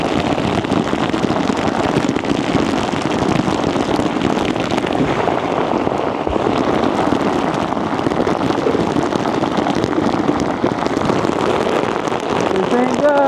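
Heavy rainstorm pouring down on a lake in Vermont, a dense, steady roar of rain hitting water and surfaces that holds loud and unbroken throughout, with no voices over it.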